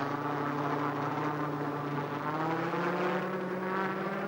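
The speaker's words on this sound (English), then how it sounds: "The drone." Steady mechanical whir of a drone in the survival game Rust, holding a constant pitch as it hovers and flies over a base, sounding fairly close, with no talk.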